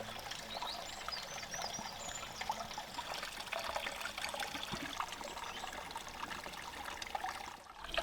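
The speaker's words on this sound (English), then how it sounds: "there's water running through it" Water running through an old town well with a horse trough in a Cotswold town, a faint, steady trickle that carries on for several seconds with soft outdoor background.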